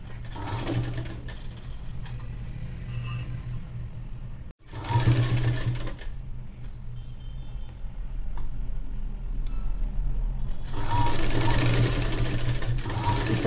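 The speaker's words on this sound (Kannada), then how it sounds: "ಈಗ ನೀಟಾಗಿ ಸ್ಟಿಚ್ಚನ್ನು ಹಾಕೊಂಬಂದ್ಬಿಡ್ತೀನಿ ನಾನು" A sewing machine stitches blouse fabric in a long, steady mechanical run. It stops abruptly once, then resumes and grows louder, and a voice is faintly present.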